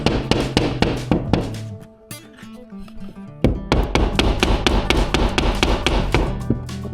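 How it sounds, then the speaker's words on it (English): Repeated sharp hammer taps on metal, close and loud in quick rhythm, pausing briefly before resuming at a steady pace. "Hey, you got your hammer on you? Tap this out a little bit."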